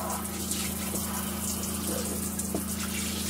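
Water runs steadily from a campervan shower, pushed by the onboard pump during cleaning of the water system, a constant close gushing hiss under a low, even pump hum with no voices.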